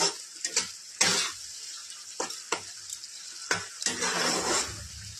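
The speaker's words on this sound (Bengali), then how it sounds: "আমি আস্তে আস্তে নাড়তেই থাকবো" Spices and turmeric fry in a pan while being stirred slowly for a Bengali prawn and bottle gourd leaf bharta, giving a soft continuous sizzle with intermittent scraping and clinking stir strokes.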